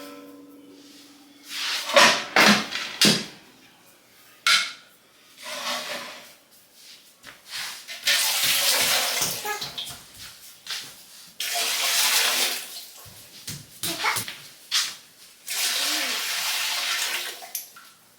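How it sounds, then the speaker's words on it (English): Tap water runs into a pressure canner in a home kitchen in several bursts, rushing loudly, stopping and starting again, with a clunk of the pot between pours and no voices. "y'all saw me go ahead and fill this up with 3 quarts of water"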